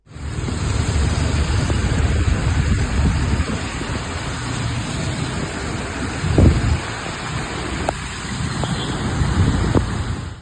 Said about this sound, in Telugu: తదితర ప్రాంతాలలో వర్షం కురిసింది